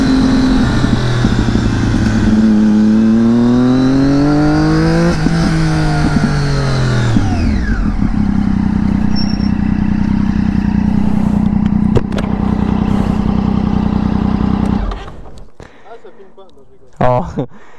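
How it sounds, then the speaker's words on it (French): A Triumph Daytona 675 three-cylinder sport motorcycle revs up and down in rising and falling sweeps, then settles into a steady loud idle before cutting off near the end. "Triumph Daytona, une 3 cylindres"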